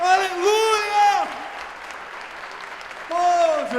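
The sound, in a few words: church congregation applause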